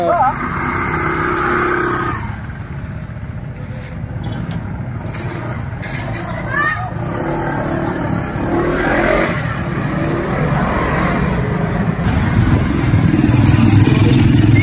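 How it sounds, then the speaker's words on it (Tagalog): A Honda ADV 160 scooter with a freshly cleaned CVT and a new ball race hums along on a test ride, its engine a steady drone with rising and falling revs and road noise under talking voices. "Magte-test drive na po ng manibela at ang kanyang bagong linis na CVT."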